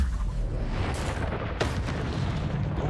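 In the Hogwarts Legacy video game, an Incendio fire spell erupts as a dense, roaring burst with two sharper booming hits partway through, loud and close over a rumbling background.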